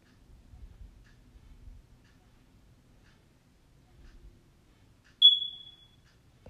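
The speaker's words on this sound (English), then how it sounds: "There's the alarm again." A single sharp, high electronic beep of a smoke alarm cuts through a quiet room with faint low rumbling.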